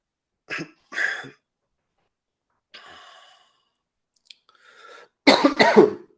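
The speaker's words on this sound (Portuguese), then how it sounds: "essa tosse, tô me recuperando de uma gripe aqui ainda" A person recovering from flu coughs several times close up: two short coughs, a pause with breathy rasps, then a louder burst of harsh coughing.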